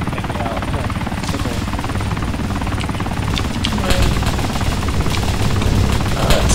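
An Osprey tiltrotor aircraft in a video game gives a loud, steady rotor and engine drone that runs through the whole landing, with a voice talking over it.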